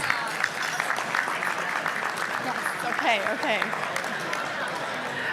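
Fundraiser audience applauding, a busy spread of clapping heard under a voice that speaks over it and a few cheers partway through.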